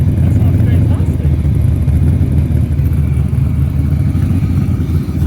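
Mazda RX-7 with a custom-built exhaust revving, a loud, deep, continuous rumble with voices heard over it.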